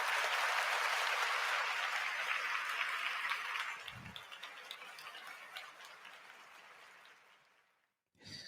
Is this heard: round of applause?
yes